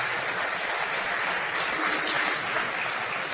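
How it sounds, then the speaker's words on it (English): Audience applause for a governor at a public event in Orlando, Florida, steady dense clapping filling the clip at moderate volume, heard without talk. "So give this governor another round of applause, will you please?"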